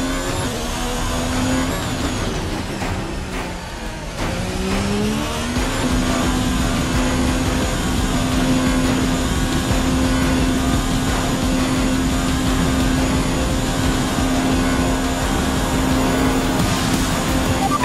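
An F1 race car engine in F1 2019 wails at a high, steady pitch, briefly dipping and climbing again as the driver shifts, then holding a loud, sustained scream to the end.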